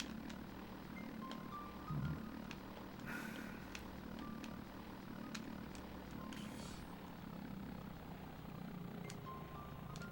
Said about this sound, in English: Helicopter running into a fence.